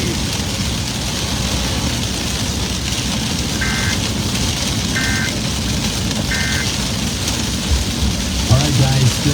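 Heavy rain pours steadily during a tornado-warned thunderstorm in Roger Mills, Oklahoma, a loud, dense hiss throughout with a few faint beeps and a brief low rumble near the end.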